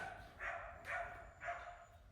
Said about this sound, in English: If y'all like shop dogs in the videos, let us know.